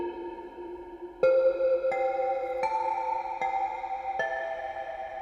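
A sampled instrument built on the harmonic series plays with reverb: a held tone, then five clear notes stepping upward about once a second, each sustaining and ringing into the next with a soft, spacious tail.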